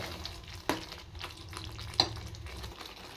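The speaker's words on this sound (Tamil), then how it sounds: "இப்போ லாஸ்ட்டாக கொஞ்சம் சீனி சேர்த்துக்கலாம். நல்லா கலந்து வச்சுக்கிறோம்." Garlic thokku is stirred in a pan after a little sugar goes in, a soft low scraping with two sharper spoon knocks against the pan over a faint sizzle.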